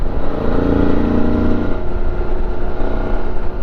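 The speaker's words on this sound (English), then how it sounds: "if you can hear the engine, the little V-twin roaring" Suzuki V-Strom 650 V-twin motorcycle engine revving, a loud, steady, close-up roar that swells briefly and then holds at a rumbling drone.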